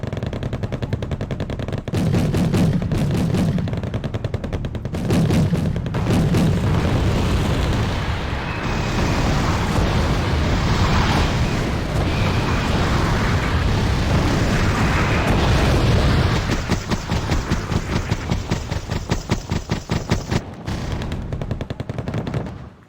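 Artillery barrages and gunfire from the war strategy game Wargame: Red Dragon, set in a mountainside battle with a South Korean army defense: dense, continuous rolling explosions and rapid machine-gun bursts, loud and overlapping for the full stretch.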